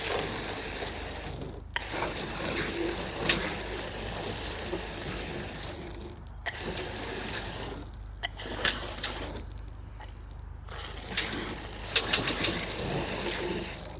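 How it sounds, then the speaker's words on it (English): Soapy water sprayed as foam onto a fishing kayak during cleaning, a continuous close hiss with a bubbly, fizzing texture, broken by a few brief pauses in the spray. "We're just gonna spray it down and get some foam going here."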